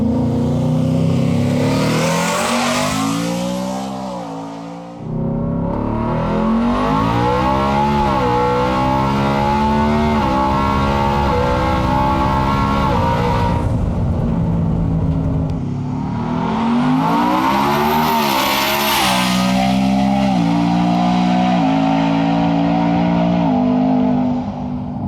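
A 1716 hp four-wheel-drive Coyote-powered Ford F-150 at full throttle, heard from inside: loud engine roar climbing through the gears with rising pitch, brief drops at each shift, a pause partway through, then another hard pull.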